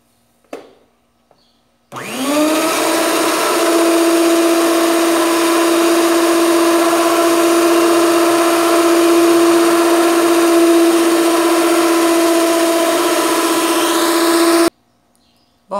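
A blender runs steadily and loudly for about thirteen seconds, mixing a batter of whole wheat flour and white beans for a cake, with a sharp start and a sudden stop and no talking.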